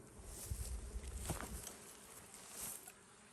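Honey bees carrying pollen into the hive entrance make a soft, continuous buzzing drone with small swells as individual bees pass close, heard quietly throughout.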